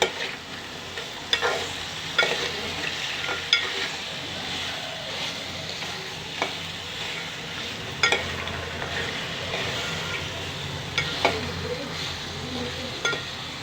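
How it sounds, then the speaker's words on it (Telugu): Sea crabs fry in a pan with salt and chili powder, a continuous close sizzle with occasional sharp scrapes and clicks of a stirring spoon against the pan. "ఉప్పు కారం అది వేసుకుందామండి వేయించండి వేగాలండి"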